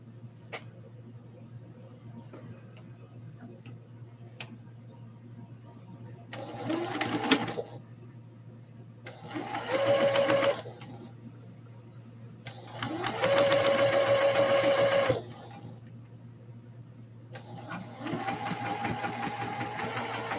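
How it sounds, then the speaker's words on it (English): Sewing machine edge stitching a Christmas dress, running in several short bursts of rapid whirring and needle clatter separated by quiet pauses, near and fairly loud over a low steady hum. "Edge stitch into place."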